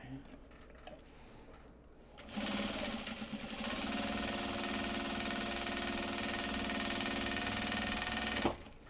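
A sewing machine stitches panels of upcycled obi and kimono fabric together, starting after a quiet handling moment and then whirring steadily for several seconds before a clunk as it stops, with speech faintly audible beneath.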